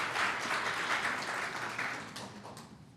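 Audience applause at a national convening of cities and counties supporting immigrants, a soft, distant wash of clapping that slowly fades over a few seconds.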